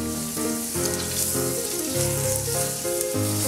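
Cubes of butter melting in a heated frying pan give a steady, close sizzle and crackle that runs without a break under background music.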